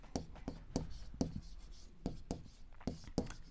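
A pen writing on paper or a board during a geometry lesson, close quick strokes in short irregular bursts, each one scratchy with a soft tap as it lands.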